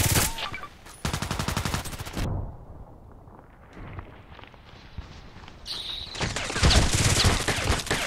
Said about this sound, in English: I will shoot only there.